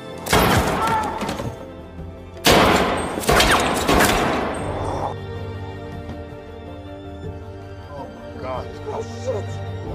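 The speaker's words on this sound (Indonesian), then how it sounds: "Nystrom pun menembak Bianca di depan Madsen." Repeated gunfire from a Swedish bank-robbery film: two loud clusters of shots and impacts, followed by quieter low, sustained background sound.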